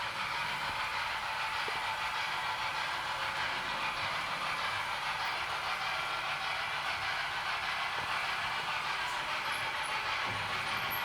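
Model railway locomotive under automated control running back to its depot, a steady faint rolling clatter and hum with light rustling over eleven seconds, no talk.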